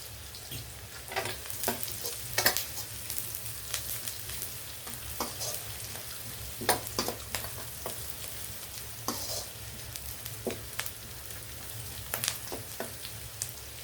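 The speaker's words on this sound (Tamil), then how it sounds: "வெங்காயம் கொஞ்சம் நல்லா வதங்கணும், ப்ரௌனிஷ் கலரில் வரணும்" Onions sauté in a pan for a home egg curry, a soft continuous sizzle with intermittent scraping stirs of a spatula, fairly quiet and close, no talking.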